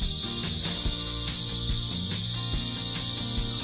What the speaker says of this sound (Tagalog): Ang ingay ng cricket.